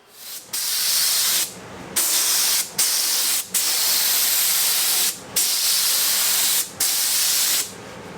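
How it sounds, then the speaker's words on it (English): A spray gun lays clear coat into a carbon fiber rifle stock mold, giving a series of about seven or eight loud, close hissing bursts separated by brief pauses. "we sprayed the clear into the mold now"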